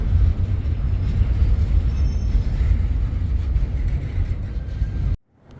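A long CSX intermodal freight train rolls past close by, a loud continuous low rumble of wheels and cars with faint high squeals, cutting off abruptly near the end.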